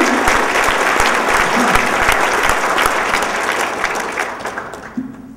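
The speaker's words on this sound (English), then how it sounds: "So please put a round of applause to them" Loud, steady round of applause from a fundraising dinner audience for sponsors and donors, dense crowd clapping holding for several seconds before thinning out at the end.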